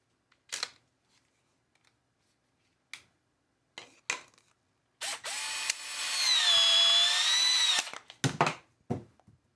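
A Milwaukee M12 cordless cutter slices through 2-inch schedule 40 PVC pipe, a steady whining motor drone lasting about three seconds with a tonal buzz, framed by a few sharp clicks and handling knocks before and after.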